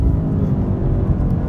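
A BMW M8 with all-wheel drive pulls hard under acceleration, its steady low engine rumble filling a short stretch, close and loud inside the car with no voices over it.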